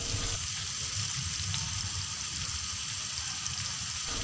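Fish frying on a tawa griddle in a Pakistani-style home kitchen, a steady close sizzle and crackle of hot oil running evenly throughout with no talking.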